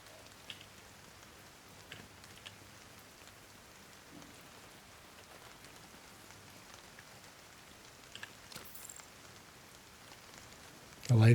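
Steady rain falling in a video game, a soft continuous hiss with faint scattered drops, low and even throughout, ending in a brief louder burst at the very end.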